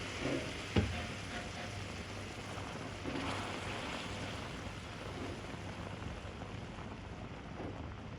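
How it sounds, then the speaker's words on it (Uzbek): A steady hissing sizzle with a rushing, surf-like texture as boiling water is poured into a pan of flour fried with sugar and oil, with a faint clink near the start. "Endi qaynab turgan suv solamiz"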